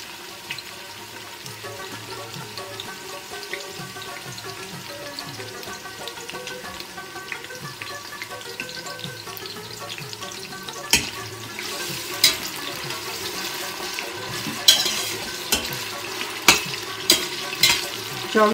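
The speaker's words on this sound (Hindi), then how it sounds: "अब हमारा ऑयल गर्म हो गया इसमें मैं अब ये प्याज डालूँगी" Onions frying in hot oil in a pot for Afghani Kabuli chicken pulao, a soft continuous sizzle that grows into a run of sharp spoon scrapes and clinks toward the end, with no voices.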